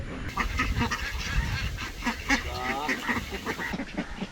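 Several Kuttanad ducks quack and honk in a noisy cluster nearby, calls overlapping in short bursts with some faint voices mixed in.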